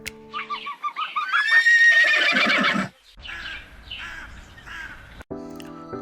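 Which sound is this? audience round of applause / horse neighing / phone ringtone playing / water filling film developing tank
horse neighing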